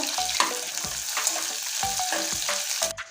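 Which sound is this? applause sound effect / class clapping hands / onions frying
onions frying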